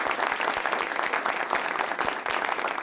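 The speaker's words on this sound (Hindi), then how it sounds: "जोरदार तालियों में" Steady, dense applause from a large studio audience at an Eid television show, loud and continuous throughout with no pauses.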